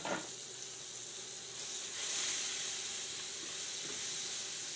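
Two tablespoons of butter hitting a hot pan for keto Texas fries, giving a steady bright sizzle and hiss that swells partway through and keeps simmering, close and alone without talk.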